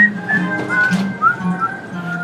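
A person on a theme park ride at Kennywood whistles a short melodic tune, clear and close, with a continuous mechanical hum underneath.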